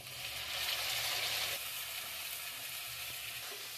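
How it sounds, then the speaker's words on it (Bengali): Blended ground spice paste poured into browned frying onions in hot oil sizzles loudly and steadily at close range, with a faint stirring scrape and no voices. "এদিকে মিক্সি করে নিয়ে এসেছি সব মশলাগুলো, পেঁয়াজের মধ্যে আমি ঢেলে দিচ্ছি।"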